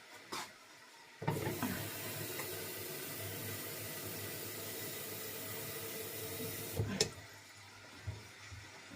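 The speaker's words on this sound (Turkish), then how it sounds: "Ay, kettle'a su koymamışım. Neyse soğuk su koyayım bir şey olmaz." Cold water runs from a kitchen tap into a kettle, a steady hissing rush that starts abruptly, holds for several seconds and stops with a few clunks.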